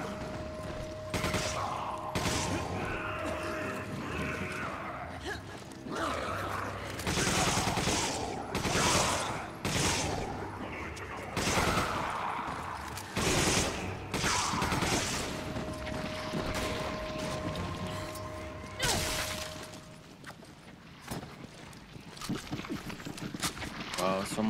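Machine gun fire in Resident Evil 5, in a co-op fight against several huge enemies, with repeated loud rattling bursts and scattered shots over about twenty seconds, mixed with game sounds and players talking throughout.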